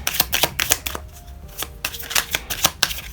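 Tarot cards are riffled and shuffled in repeated quick bursts, loud and close, with brief pauses between passes.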